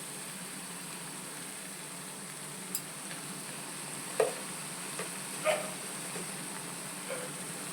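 Turmeric and spices sauté in a pan for egg curry, giving a faint, steady hiss with a few soft taps of a spatula against the pan now and then.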